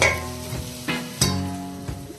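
Onions frying in ghee for chicken haleem, a steady close sizzle with a few sharper scraping stirs punctuating the crackle.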